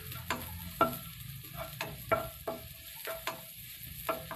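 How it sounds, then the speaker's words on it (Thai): Shallots and pork filling stir-fried in a pan for sago dumplings: a soft continuous sizzle broken by regular scraping strokes of the spatula, roughly one every half second, close and fairly crisp, with no talking. "ใส่หอมแดงหน่อยครับจะหอมดีนะครับ"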